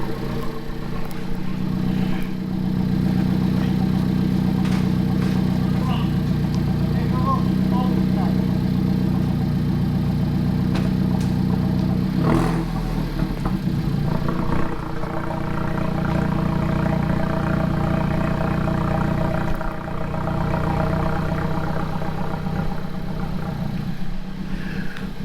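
An Alfa Romeo 4C idling through a centerline exhaust, a steady low rumble with a brief rev partway through, close by, with someone talking over it.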